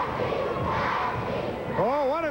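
A wrestling arena crowd at a 1986 NWA event chants and yells for Dusty Rhodes, a steady roar of many voices, with a sustained shout rising near the end.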